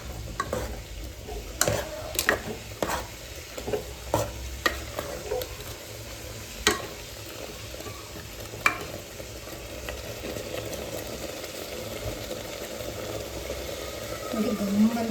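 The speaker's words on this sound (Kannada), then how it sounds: "ಇದು ಹಸಿ ಸ್ಮೆಲ್ ಹೋಗೋ ಹಾಗೆ ನಾವು ಫ್ರೈ ಮಾಡ್ಕೊಳ್ಳೋಣ" Ground masala paste frying in a biryani pot, a steady soft sizzle running throughout, broken early on by a series of sharp scraping stirs of a spoon against the pot that thin out as the frying continues.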